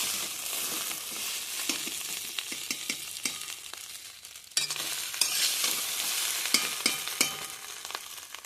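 Chow mein noodles, slightly overcooked and clumping, being stirred and pulled apart in a hot frying pan, a steady sizzle broken by repeated scraping and tossing clatters, close and fairly loud with no talking.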